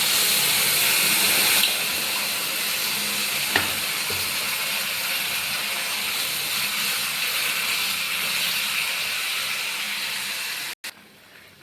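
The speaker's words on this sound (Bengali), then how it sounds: "এবারে জল দিয়ে দেবো।" Water poured into a vegetable curry of eggplant, green banana and bori simmering in a pan, a loud sustained hiss and sizzle that steadily fades, with a brief clatter near the end.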